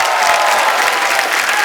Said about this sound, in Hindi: तालियां और तेज हो जाएगा